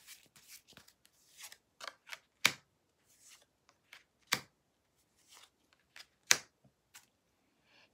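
Tarot cards drawn from a deck, giving scattered soft papery slides and a few crisp snaps spaced irregularly, quiet and close, with no talking.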